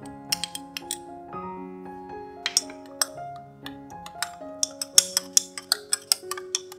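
A spoon stirs salted coconut milk in a bowl, giving quick, light clinks and ticks in irregular bursts over steady background music.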